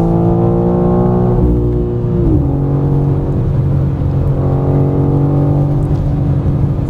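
A 2025 BMW M4 CS engine drones loud and steady on a racetrack, its harmonics rising, then dropping sharply at a gear change before settling into a sustained, even pull.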